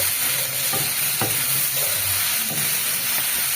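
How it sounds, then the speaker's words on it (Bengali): Capsicum and onion with salt stirred in a hot frying pan for chilli paneer, a loud continuous sizzle with a few soft scraping strokes of the spatula close by, no talking. "নুন দিয়ে একটু নেড়ে নেব"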